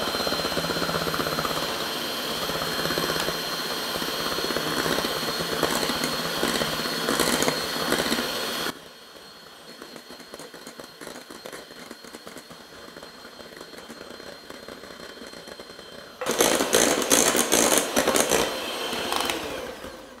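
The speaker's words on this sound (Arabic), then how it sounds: "هلا بخفق وبضيف الزيت شوي شوي" Electric mixer whirring as it beats cake batter while oil is added gradually, a loud buzzing motor that drops to a quieter level midway and then returns at full strength.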